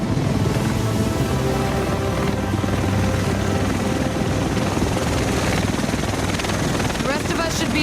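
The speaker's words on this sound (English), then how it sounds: "The rest of us should be in this chopper." In Tom Clancy's The Division, a helicopter arrives over Manhattan, its rotor and engine roar loud and unbroken throughout, with voices mixed underneath.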